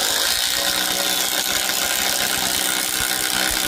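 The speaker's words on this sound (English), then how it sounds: "they're going to be running identical 5-inch flat lock screws" Milwaukee M12 and Makita subcompact drills drive identical 5-inch flat lock screws, giving a loud, steady, unbroken motor whir with gritty buzzing for the full stretch and no talk over it.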